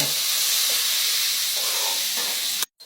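Fatty three-layer pork stir-fries in a pan with only a little oil, cooked down toward crispy cracklings. It gives a steady, close, bright hiss of sizzling that runs evenly, then cuts off abruptly near the end.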